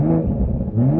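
A BMW M440i's engine revs up, its deep drone climbing in pitch, dipping briefly, then rising again, loud and close, with no talk.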